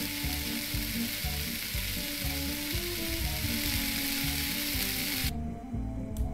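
Fish sizzling steadily in a frying pan in a cooking simulator game, a loud continuous crackle with a rhythmic mechanical pulsing underneath, the high hiss dropping away near the end.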